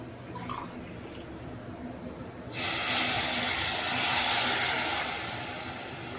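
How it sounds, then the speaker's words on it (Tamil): Water poured into a hot pan of browned ingredients, bursting into a loud steady hiss and sizzle after a quiet start, fading slightly toward the end. "இந்த மாதிரி நல்லா ப்ரௌன் கலராக வந்த உடனே நம்ம தண்ணி ஊற்றிடுவோம்."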